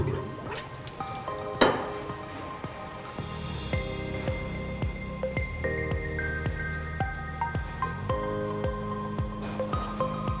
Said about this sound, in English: we can also disengage the overflow pipe to start draining the tank.